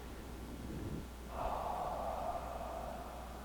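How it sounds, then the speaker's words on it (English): Slow breathing during a tai chi and chi gung grounding exercise: a soft inhale followed by a longer, steady, airy exhale, close and quiet, with no talking. "let's take a moment to ground ourselves and take a couple of breaths"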